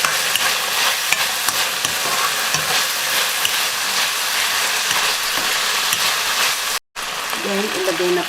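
Pork stir-frying with Cantonese sauce in a pan gives a loud, dense sizzle with scattered clinks and scrapes from stirring, holding steady close up apart from one brief dropout near the end, with faint vocal sounds toward the close.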